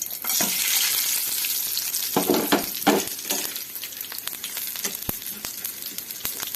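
Garlic cloves and spices for a popu tempering fry in hot oil, giving a loud, steady crackling sizzle with bursts of popping and spattering as things are stirred, and no voices.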